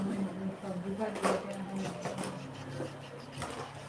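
A sewing machine runs in a steady mechanical whir under a person speaking nearby, with a few sharper clatters mixed into the hum.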